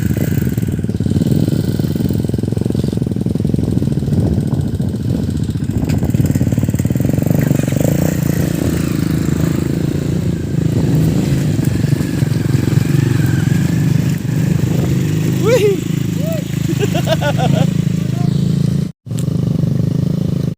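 A habal-habal motorcycle taxi in the Philippines, used to haul goods for farmers, runs its engine loudly and steadily at close range, a continuous rumbling drone with a brief dropout near the end.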